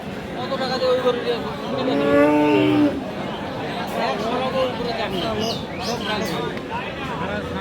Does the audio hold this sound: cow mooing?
yes